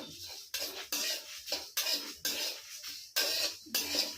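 Raw mango pickle stirred in a pan, about eight rhythmic scraping strokes of a utensil against the metal, each a short gritty swipe separated by brief pauses, close and clear with no talking.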